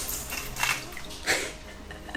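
Water is poured into a household container while mopping up a spill, a close, continuous splashing trickle lasting a couple of seconds.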